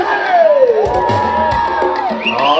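Women in a crowd at a traditional Oaxacan-style festival dance in Metlatónoc, Guerrero, letting out loud, high sliding shouts and whoops that overlap in a dense, near chorus.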